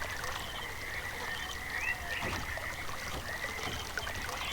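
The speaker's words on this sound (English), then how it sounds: "if we go down this left path, you can hear the water" Water flowing along a channel in the realMyst Masterpiece Edition game's Channelwood Age, a steady close rushing wash with a faint tonal hum and occasional creaks, no talk.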